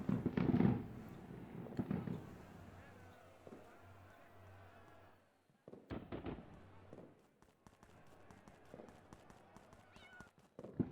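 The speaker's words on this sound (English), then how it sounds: "Why is the pig meowing?" Pig in a video game meowing like a cat, faint meow-like cries amid crackling, popping bursts and a low hum.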